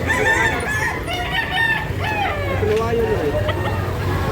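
Chickens and roosters at a public market, several crowing calls and clucks overlapping against a busy background, with people talking nearby.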